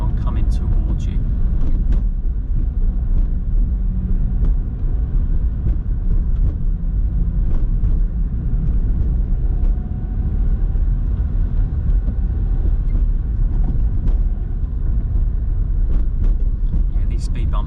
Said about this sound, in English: Yeah, these speed bumps are a bit bigger than the other ones. I mean, I just went over that at 16 miles an hour.